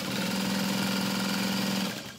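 A sewing machine runs steadily, stitching through the lining side of a handmade bag with a wide seam allowance, its fast, even motor hum lasting about two seconds before stopping abruptly. It is close and alone, with no voices.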